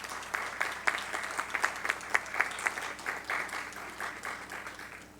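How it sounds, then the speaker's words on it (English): A graduation ceremony audience claps for the graduates' families, friends, spouses and children, a steady wash of many hands with bursts of louder clapping throughout, moderately distant and fading slightly toward the end. "give all of your family, friends, significant others, spouses, children a big round of applause"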